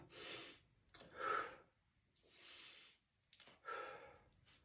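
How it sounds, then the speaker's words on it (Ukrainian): Slow, deliberate breaths in and out through the nose during a gentle exercise routine, four or five soft airy breaths close by, each separated by brief quiet pauses. "Робимо вдих, видих. Це робите носом."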